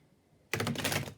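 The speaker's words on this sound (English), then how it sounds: "I'm gonna get the 4 shuffles for you guys. I know I have to shuffle so much" Tarot cards shuffled by hand: a sudden loud burst of rapid, fluttering card riffling that starts after a quiet moment and continues close up, with no talking.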